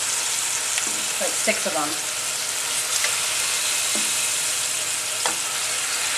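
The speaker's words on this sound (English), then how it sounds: "I've just seared each side for about 15 seconds" A bacon-wrapped pork tenderloin sears in a hot pan with a constant, bright sizzle and a few sharp pops of spattering fat; a voice speaks briefly over it.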